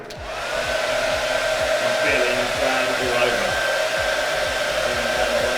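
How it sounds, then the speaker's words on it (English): A hair dryer blows loudly and steadily throughout, a constant close whooshing roar with a faint whine. "tell what the statement is above all the hairdryer noise"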